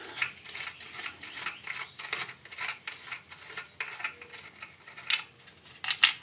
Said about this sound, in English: I'll take these clamps off, remove these bolts, take that plate off